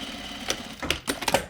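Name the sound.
sewing machine sewing shoulder seams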